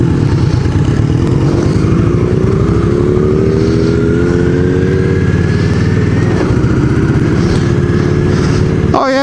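A 1987 Honda Rebel 250 motorcycle engine runs close by, a loud, steady putter that rises gently in pitch as it revs, then drops back near the end.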